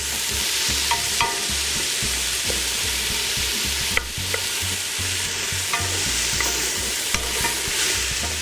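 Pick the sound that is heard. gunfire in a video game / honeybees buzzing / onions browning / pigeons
onions browning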